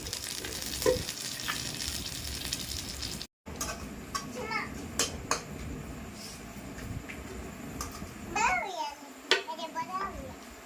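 Corn kernels hit a hot pan to roast, giving a steady, close frying sizzle with scattered knocks and stirring scrapes, while children's voices chatter in the background.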